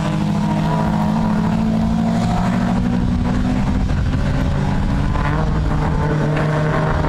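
A red, white and blue Datsun GX coupe leads a Focus Freight Ford Escort round a circuit bend, their engines making a loud, steady, close racing roar that holds for several seconds.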